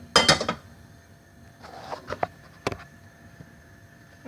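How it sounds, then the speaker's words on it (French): A saucepan is handled and set on a stove burner while turkey strips in curry are being prepared: a few sharp metallic clanks and clatters, close and separate, with quiet gaps between them. "voilà, j'ai mis la casserole sous le feu."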